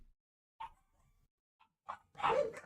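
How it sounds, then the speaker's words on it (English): Dogs bark in a few short, sharp bursts separated by silence, ending in a louder cluster of barks and yips, moderately close. "Oh boy, the dogs are going nuts."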